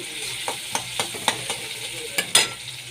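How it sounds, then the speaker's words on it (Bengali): Panch phoron, dried red chillies, whole cumin, black cumin, chopped tomato and onion frying in a pan, a steady sizzle punctuated by repeated quick spatula scrapes and taps, close and fairly loud, no speech. "পাঁচফোড়ন শুকনো লঙ্কা গোটা জিরে কালো জিরে একটা টমেটো কুচি একটা পেঁয়াজ কুচি দিয়ে আমি ভেজে নিচ্ছি"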